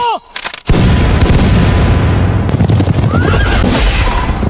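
A volley of musket fire erupts, loud and sustained, from massed troops on an ancient battlefield, with a horse whinnying briefly before the blast.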